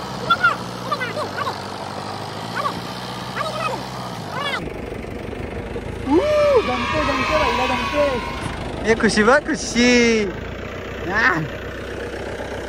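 A car's engine runs steadily during a driving lesson, partly masked by people talking close by, with a few louder revving swells in the second half.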